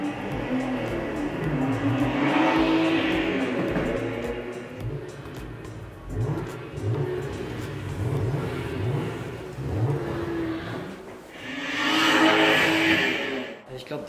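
Recorded BMW engine sounds play from overhead speakers at a museum engine display, revving and surging loudly in waves over about fourteen seconds, with a brief lull before another rising burst.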